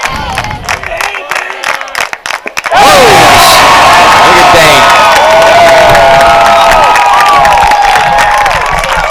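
A high school baseball crowd at a bi-district playoff game erupts into loud, sustained cheering and shouting, rising suddenly after a quieter stretch with brief talk and staying at full volume, with whoops and screams on top.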